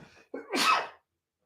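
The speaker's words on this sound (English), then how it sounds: "excuse me, I'm about to sneeze." A single close, loud human sneeze bursts out after a short inhale and a few breathy sounds, then stops abruptly into silence.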